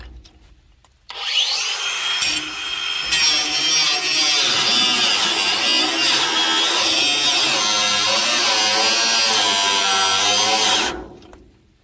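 A power grinder works steadily on a leaf spring of a car trailer, a loud continuous metallic whine lasting about ten seconds after a brief start-up and ending abruptly, close and alone.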